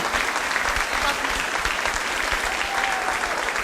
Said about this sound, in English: big round of applause for Mr. Dan Beal, who's our music director